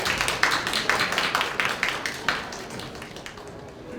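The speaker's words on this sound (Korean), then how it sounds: "박수 부탁드리겠습니다." Audience applause at a webtoon industry lecture event as the speaker is welcomed to the stage: a room full of hands clapping with distinct rhythmic claps standing out, holding steady and then gradually thinning toward the end.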